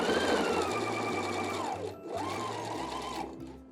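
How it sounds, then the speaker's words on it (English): A sewing machine stitches down fabric and back stitches, its motor whirring in a fast, steady rhythm that slows, briefly pauses, then runs again. It is close and loud, with no talk. "I'm going to back stitch, and then I'm going to come all the way down the fabric and back stitch again."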